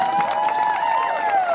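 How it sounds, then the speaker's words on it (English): A crowd at a 2018 grand re-opening event with the city's mayor cheers and whoops over a steady wash of applause, with voices rising and falling throughout. "let's give her a big round of applause"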